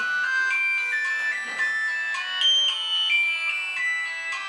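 A mobile phone rings with a bright melodic ringtone, repeating tonal phrases played loudly and alone for several seconds, at a Raksha Bandhan festival gathering in a village home.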